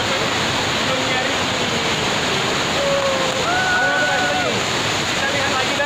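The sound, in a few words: Rantau Suli waterfall in Jangkat, Merangin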